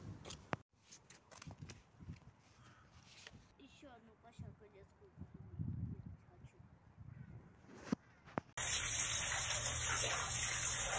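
Sewage water gushes into a flooded basement bomb shelter, a steady rushing flow that swells loud toward the end, with footsteps and handling noises along the way and someone talking over it.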